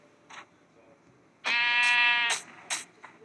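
Sheep bleating in Minecraft: one long harmonic baa in the middle, framed by short clicky game sounds, clean and close with no talking.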